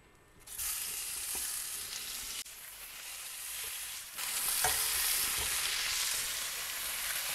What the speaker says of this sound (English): And now while the pan is hot, we will go in with the patties.